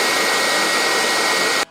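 A Dreame R20 cordless stick vacuum cleaner's motor runs with a steady, even broadband whir at close range, holding constant and then cutting off abruptly at the end.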